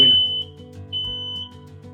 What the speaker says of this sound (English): It actually tests the detection mechanism inside it to make sure that you know your alarm will detect a fire